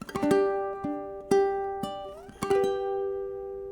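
Plucked ukulele notes and strummed chords walking upward from a G to a higher G voicing, one note sliding up in pitch, each ringing briefly before the next, close and unaccompanied.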